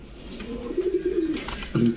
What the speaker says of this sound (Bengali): রাশেদ ভাই খুব অস্থির একটা কবুতর ভাই টেম করা তো এটা